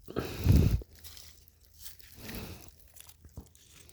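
Someone bites and chews an orange just picked in the forest, giving a loud juicy crunch near the start followed by quieter, scattered chewing and rustling, close to the mic with no talk.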